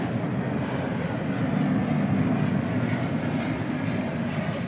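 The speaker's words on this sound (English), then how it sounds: "We've got Spirit Airlines coming in." Spirit Airlines jet arriving at Dallas Fort Worth airport at night, a steady broadband engine roar holding at even loudness throughout, with no voices.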